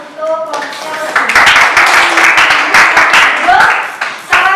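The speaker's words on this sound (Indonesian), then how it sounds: "kita berikan tepuk tangan untuk kelompoknya Lutfi" Classroom of students clapping for a student group after their presentation, a loud burst of scattered hand claps that follows a few spoken words and continues steadily for several seconds.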